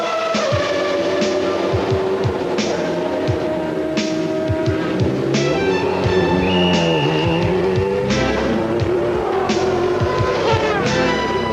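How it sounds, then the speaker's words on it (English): A 1993 McLaren Formula One race car runs on track during testing. Its loud, high-revving engine climbs and drops through the gears continuously and close by, with no talk. "It's time to try out the car again and see if last night's adjustments have worked."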